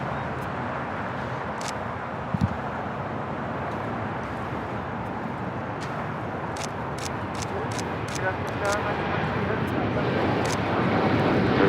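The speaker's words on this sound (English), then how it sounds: "Next arrival is the Dreamliner, now rolling down" A Boeing 787 Dreamliner rolling down runway 25 right at LAX, a broad, continuous jet roar that builds slightly toward the end, with faint voices and scattered clicks in the background.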